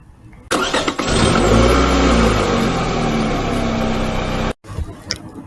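A car engine starts and revs up loudly as the vehicle pulls away in a village toward a banyan tree, a sustained close roar that cuts off abruptly near the end.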